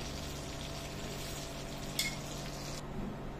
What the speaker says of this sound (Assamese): গোটেইখিনি মছলাই ভালদৰে ভাজি ল'লোঁ